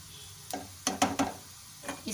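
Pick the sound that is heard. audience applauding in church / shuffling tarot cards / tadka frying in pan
tadka frying in pan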